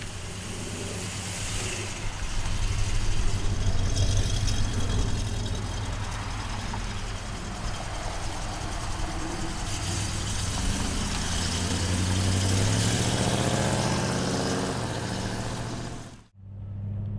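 A 1967 Plymouth Barracuda convertible engine idles steadily and loud for about sixteen seconds, a deep even rumble with a slight swell near the end before cutting off.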